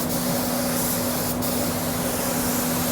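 A steady, continuous hiss of a spray gun spraying car paint, loud and close, running unbroken throughout with a faint tonal hum underneath.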